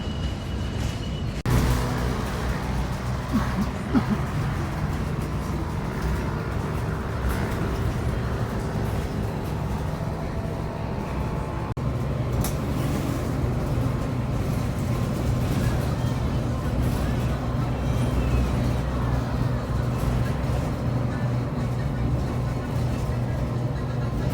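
A bus in La Paz, Bolivia rumbles along with a continuous low engine drone and road noise throughout the ride, as heard from inside, with faint voices mixed into the steady din.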